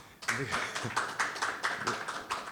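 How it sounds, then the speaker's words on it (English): An audience gives a round of applause for Gregory Piper at a cheque presentation event, a brief burst of clapping with uneven rhythm. "we should give him a round of applause"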